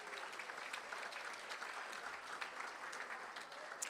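Steady crowd applause fills a school board meeting as the audience claps for honored students, an even, continuous patter of many hands throughout with no speech over it.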